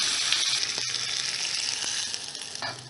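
Mustard seeds, cumin, asafoetida, green chili, curry leaves and ginger crackling in hot oil, a dense close sizzle with a few sharp pops and a brief clatter partway through.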